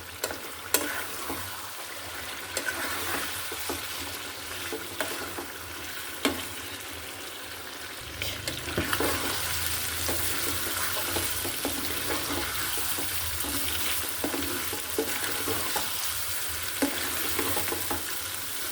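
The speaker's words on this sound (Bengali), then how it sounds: "মাংসটা ভালোভাবে কষাতে হবে মশলার সাথে যেন মাংসটা গায়ে গায়ে লেগে থাকে" Chicken pieces fry with spices in a pan, quiet at first, then a loud close sizzle swells from about midway with repeated scraping stirs and no talk.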